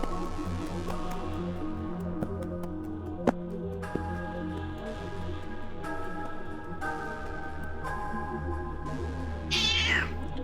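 A cat meows repeatedly in the horror game Voices of the Void, fairly close and clear against a low droning background, with a sharper cry near the end.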